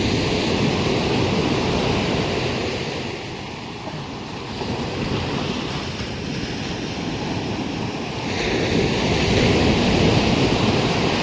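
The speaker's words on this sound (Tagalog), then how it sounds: "Lalakas ang lagabog ng alon." Ocean surf pounds a shoreline in a steady, roaring wash, swelling louder near the end, with wind buffeting the microphone throughout.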